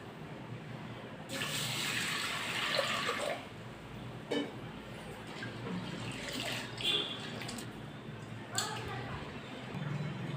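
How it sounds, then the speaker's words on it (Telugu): Water runs from a tap while about 100 grams of dal is rinsed twice in a kitchen, a steady broadband gush that rises and falls with a few louder splashes, and faint background sounds beneath it. "ఈ విధంగా పప్పుని తీసుకొని దీన్ని రెండుసార్లు శుభ్రంగా కడగండి"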